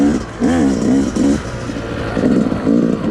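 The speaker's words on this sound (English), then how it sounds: "first ride on the 2019" A 2019 Yamaha YZ250X two-stroke dirt bike engine runs close by, loud and steady, with wavering revs that rise and fall repeatedly.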